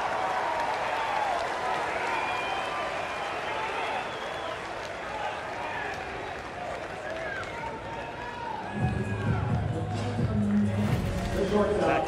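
Alabama Crimson Tide fans cheering in the stands at a college baseball game against South Carolina; a steady, distant crowd roar with whoops and applause runs throughout, under a commentator's voice.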